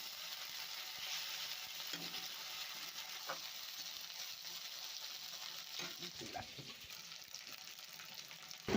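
Onions frying with ginger-garlic paste while being stirred in a pan, a steady close sizzle with scattered scraping taps from the stirring and no talk.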